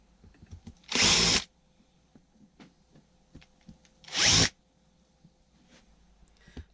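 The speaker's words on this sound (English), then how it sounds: "putting some countersunk pre-drilled holes in this bit" A power drill bores countersunk pre-drilled holes into a wooden drawer piece during a narrowboat bedroom storage fit-out, with two loud, close bursts of roughly half a second each, separated by about three seconds of quiet workshop background.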